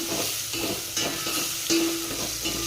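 Food sizzles steadily in a pan with rhythmic stirring scrapes every half second or so, close and continuous with no voices.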